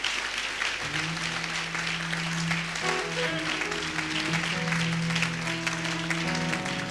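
A church congregation at a prophetic service in Pointe-Noire applauds and cheers steadily, dense clapping and crowd noise filling the room, with sustained tones of music or keyboard droning underneath throughout.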